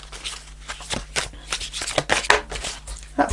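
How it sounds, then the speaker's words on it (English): A deck of tarot cards is riffled and shuffled by hand at close range, a quick run of crisp flicking bursts repeating for a few seconds with no talk. "Let me just shuffle these."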